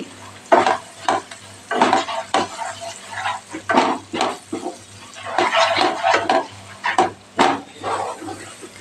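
Tomatoes and gram flour roasting in a pan for Kathiyavadi dambhanu shak, with repeated spoon scrapes and stirring clatters against the pan over a soft sizzle, close and rhythmic.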